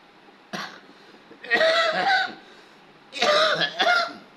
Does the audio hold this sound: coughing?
yes